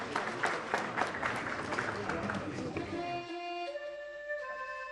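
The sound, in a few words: audience applause welcoming a speaker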